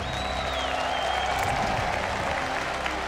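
A large stadium crowd at a StarCraft 2 grand final at IEM Katowice cheers and applauds the Norwegian Zerg player Snute, a dense, steady roar of clapping with whistles and shouts mixed in.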